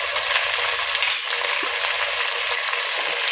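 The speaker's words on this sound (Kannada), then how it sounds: "ಇದೆಲ್ಲ ಹಾಕಿ ಫ್ರೈ ಮಾಡ್ತೀನಿ." Vegetables frying in a pan for masala rice bath: peas, potato and capsicum give a loud, steady sizzle, with a brief clink of a utensil partway through.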